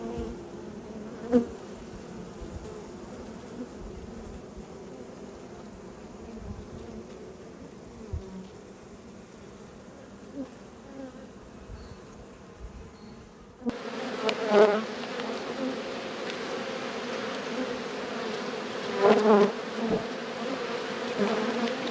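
Continuous dense buzzing of many honeybees at a hive close by, a steady droning hum that grows louder partway through.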